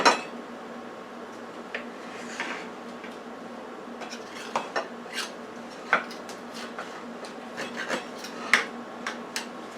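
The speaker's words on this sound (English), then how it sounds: "let me just slice it so that you can see what the" A knife slices through a lemon chocolate marble cake, with soft rasping cuts and light clinks of metal against a plate or pan, quiet and close, no talking.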